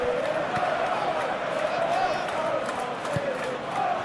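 A stadium crowd in the PES 2021 football game keeps up a steady, dense roar with rising chants throughout. The noise stays broad and unbroken, and a couple of faint thuds surface within it.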